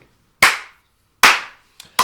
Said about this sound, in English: That was a poor clap, wasn't it?